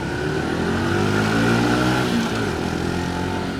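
An auto clutch motorcycle revs while being ridden in traffic, its engine note rising and falling steadily and close with wind rush, and no voices.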